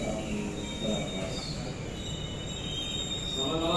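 Senja Utama YK economy-class passenger train running on rails in Indonesia, a steady, close rumbling roar of wheels and carriage noise with faint high squeals, continuous and loud throughout.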